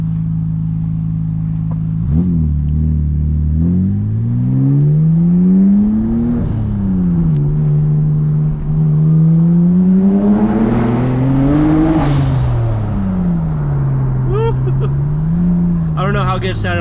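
A Nissan GTR with a Christle Fab custom track exhaust revs repeatedly up close, its loud engine note rising and falling in sweeping pulls with crackles between, over a short spoken remark.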